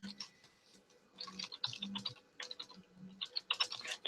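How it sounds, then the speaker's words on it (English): Computer keyboard typing during a live stream, irregular clusters of quick clicks and taps, fairly faint and close, with brief pauses between bursts and no voices. "so just typing something on Facebook"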